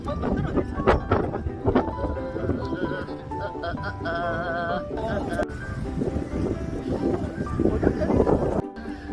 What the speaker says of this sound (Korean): 바람 많이 분다